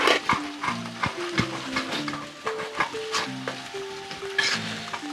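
Garlic and ginger fry in hot oil in a pan for a mutton liver gravy, a steady crackling sizzle with bursts of spitting and the clink of a spoon stirring, close and moderately loud, no speech.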